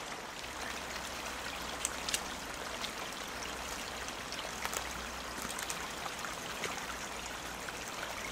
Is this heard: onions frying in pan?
no